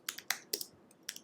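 Typing on a computer keyboard: a handful of crisp, close key clicks in quick irregular succession, quiet overall.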